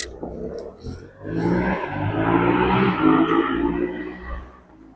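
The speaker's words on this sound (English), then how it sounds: "Sorry about the traffic noise." Passing vehicles on the A57 roar by beside a fishing lake, one car or motorbike swelling loud and close for several seconds before fading away.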